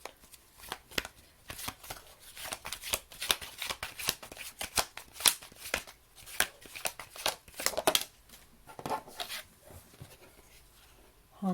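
A deck of oracle cards being shuffled by hand in a quiet room during a tarot-style reading, giving a steady run of close, crisp riffling and flicking bursts that go on and off for about ten seconds with no talk.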